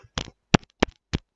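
Four sharp, hollow taps on the microphone of an Audio-Technica ATH-S100iS headphone, spaced evenly about a third of a second apart, with quiet in between.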